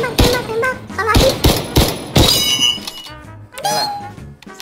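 Gunfire from guns in Minecraft, including M14 and VSS weapons: a series of sharp, loud shots in uneven bursts with metallic clinks between them, ending in a short lull before a few more shots.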